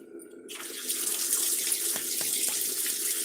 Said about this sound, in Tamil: சேனக்கிழங்கு கழுவிட்டு வந்துடுறேன்